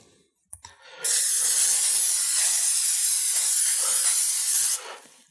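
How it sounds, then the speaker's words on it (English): A steady cooking spray hisses continuously for about four seconds onto a baking dish, loud and close, with a soft click just before it starts. "I'm using cooking spray today."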